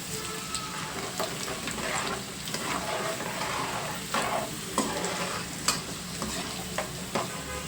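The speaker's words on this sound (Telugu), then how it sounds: "ఇవి కూడా బాగా ఫ్రై అయ్యేటట్టు పచ్చివాసన, ఈ వెల్లుల్లిలోని పచ్చివాసన అంతా పోయి ఇవి కూడా గోల్డెన్ బ్రౌన్ కలర్ వచ్చే వరకు వేయించుకోవాలి" Garlic frying in oil for a grated raw mango pickle, stirred until golden brown, with a steady loud hiss of sizzling and intermittent scraping strokes of a spoon against the pan, close up, with no talking.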